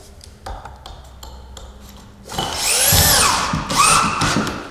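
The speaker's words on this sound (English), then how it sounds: "back that screw back out of there and you're going to install a new plate" A power drill drives a screw through a metal insulation plate: a loud, whining burst of drilling starts about midway and runs for a couple of seconds, after quieter tapping and handling noises.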